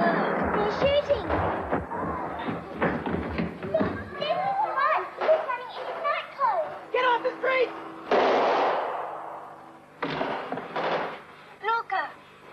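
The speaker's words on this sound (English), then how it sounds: "They're shooting!" Gunfire from outlaws in a film cracks out in several sharp shots amid children's shouting voices and dramatic, busy film sound.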